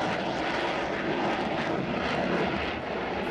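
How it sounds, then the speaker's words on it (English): A Tejas fighter jet takes off in a flight test, a loud, continuous broadband jet roar holding steady throughout with no voices. "Tejas PB-1 took off first"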